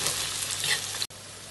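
Curry leaves hiss in hot oil alongside onion and chili for a banana-stem vegetable dish, a steady close sizzle that cuts out abruptly for an instant before resuming.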